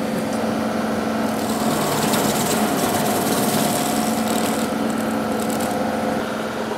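A Deere 2038R compact tractor drives a stump grinder chewing into an ash stump, a loud, steady engine drone with a continuous grinding hum and no pauses, close by and with no talk.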